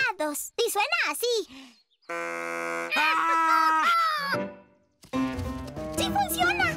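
A deer call made at camp is blown in a children's cartoon, giving one steady, buzzy honk of about two seconds, framed by animated voices and other cartoon sounds before and after.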